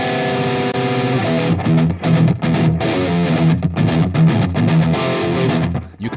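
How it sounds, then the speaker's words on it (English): Distorted electric guitar played through a Fractal preset modeled on a Bogner Ubershall amp, with a delay effect repeating the notes; a chugging rhythm part of sustained, crunchy chords with echoing tails, loud and alone. "You can hear very easily the effect of the delay block."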